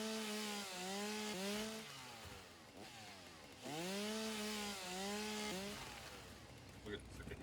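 A chainsaw in the video game Satisfactory revs in long rising and falling buzzing bursts, loud and close, cutting in and out several times with brief pauses between.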